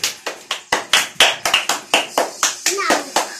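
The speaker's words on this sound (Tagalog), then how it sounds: "Taas ang palakpak kay King." Children clap in short, quick bursts for a contest winner, about a dozen sharp claps in an uneven rhythm, loud and close, with a little chatter.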